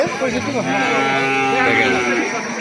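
A young calf lets out a long, drawn-out bawling moo, close and loud, over the busy background of a cattle market.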